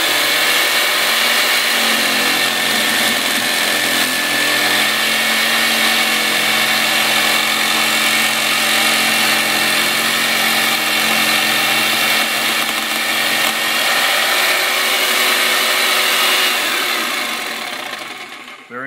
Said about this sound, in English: So now I put the PVC blade on there,